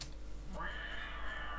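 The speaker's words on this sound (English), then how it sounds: "This is rather strange male cat sounds." A cat meows in the Minecraft video game, a single drawn-out, fairly faint electronic-sounding mew rising over a steady low background hum.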